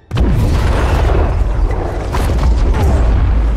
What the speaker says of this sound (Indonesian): sebuah ledakan dari kapal selam bangsa manusia meluluh lantahkan tempat tersebut